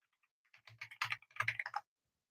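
Quick bursts of keystrokes on a computer keyboard, close and crisp, clustering into a rapid run of clicks before stopping, with no talking.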